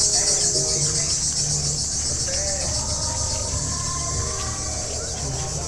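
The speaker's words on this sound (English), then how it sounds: "This noise, if you can hear it, hopefully on the microphones, is just the crickets." Continuous shrill cricket chirping fills the background on a beachfront promenade in Marmaris, Turkey, steady and even throughout, with faint bird calls and low outdoor rumble beneath.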